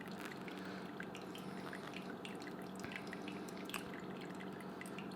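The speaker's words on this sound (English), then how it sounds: "And I just pour it slowly." Water poured slowly from a Brewista Artisan stovetop kettle onto coffee grounds in a filter, a steady soft trickle with faint dripping throughout, close and even, no talking.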